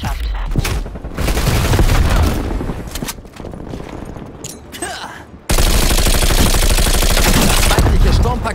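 Heavy gunfire rattles in dense bursts through a Call of Duty Black Ops Cold War match, with a grenade thrown and booming impacts, loud and close, while voices talk over the battle.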